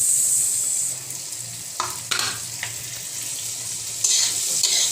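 Onions frying in a pan for paneer butter masala, a steady sizzle with several sharp scraping stirs of a spoon, close and fairly quiet, no talking.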